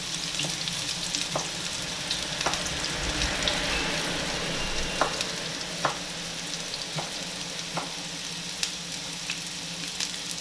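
Pork browns in a pan with a dense, continuous sizzle and crackle, with scattered sharp pops and spatters throughout.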